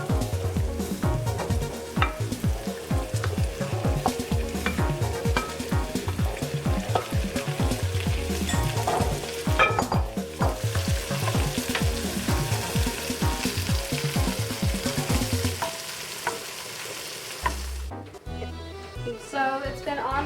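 Shrimp and tender asparagus sizzle in a hot pan with steady frying crackle, while a utensil scrapes and stirs rhythmically against the pan; the sizzle drops away near the end.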